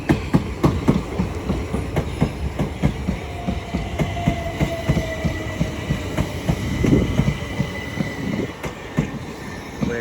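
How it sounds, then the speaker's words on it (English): Southern electric train pulling into East Croydon station, loud and close, with rhythmic clickety-clack of wheels over rail joints, rising rumble and brief wheel squeal as it slows. "incoming now will be a terminating southern service from London Bridge"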